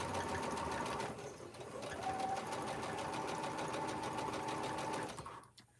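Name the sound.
sewing machine sewing Anita's Arrowhead quilt block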